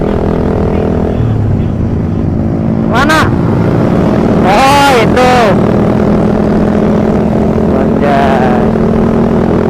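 A Suzuki Satria FU motorcycle idling with a steady low engine drone and a fan-like whirring hum, while short passing engine whines rise and fall over it and a few people speak briefly.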